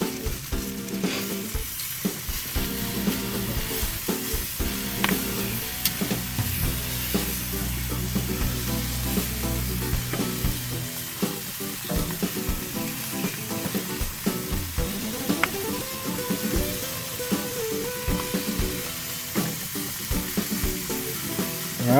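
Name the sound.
sausages and sweet peppers sizzling on a grill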